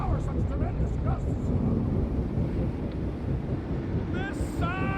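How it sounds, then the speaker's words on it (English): Strong, roaring wind gusts in the Guardians of the Galaxy video game, a dense continuous rush filling the whole clip, with game characters' voices shouting over it. "Your feeble body cannot overpower such tremendous gusts!"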